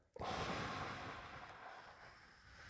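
A single deep, breathy inhale that swells quickly and then trails off into a long, airy exhale, close to the microphone with no talking.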